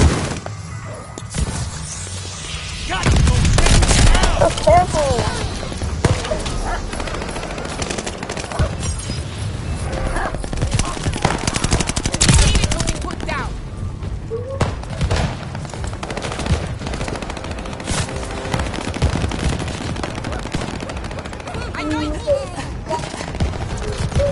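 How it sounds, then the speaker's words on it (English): Rapid bursts of shotgun fire in the video game Killing Krampus, loud repeated blasts and crashes coming in clusters across a chaotic firefight. "Oh, he's using a shotgun. They're all using shotguns."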